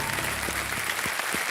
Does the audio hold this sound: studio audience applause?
yes